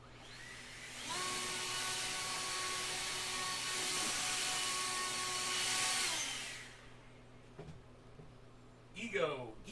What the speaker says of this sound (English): Ego blower.